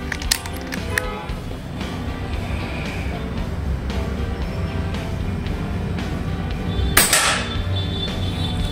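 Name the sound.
PCP air rifle shots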